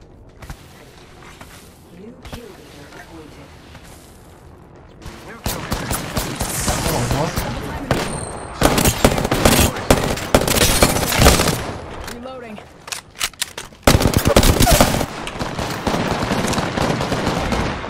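Gunfire in an Apex Legends battle royale match: after a quieter opening, loud rapid bursts and single shots crack repeatedly from about five seconds on, dense and close, with brief pauses between volleys.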